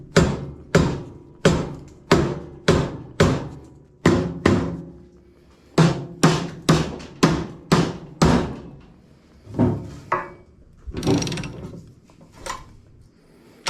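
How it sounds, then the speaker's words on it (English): A rubber hammer strikes a bent motorcycle frame during straightening, a long series of sharp, loud knocks in quick bursts with short pauses between, ringing off the metal. "Let me get a rubber hammer. Just hit it a little bit."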